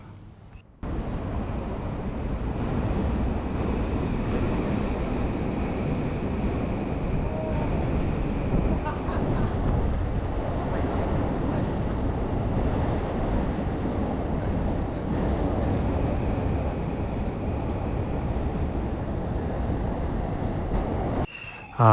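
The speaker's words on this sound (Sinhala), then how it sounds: "මේ ඔයගලන්ට පේන්නේ ටෝකියෝ ස්ටේෂන් එක ඉස්සරහා" A continuous heavy rumble of a train rolling past nearby outside Tokyo Station, steady throughout with faint squeals and no talking.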